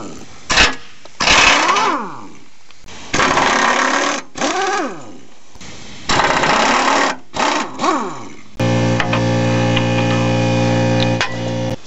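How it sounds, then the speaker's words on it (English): An impact gun works loose the skid plate bolts on a GMT800-generation Chevy truck, several loud whirring bursts with short pauses between, followed by a steady mechanical hum. "So it seems like the impact gun worked okay on the skid plate bolts"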